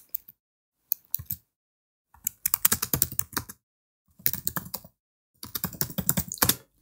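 Typing on a computer keyboard, close and alone: quick clattering runs of keystrokes arrive in several bursts, separated by short silent pauses.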